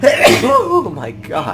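A sneeze bursts out at the start, close and loud, followed right away by a startled voice reacting over quiet background.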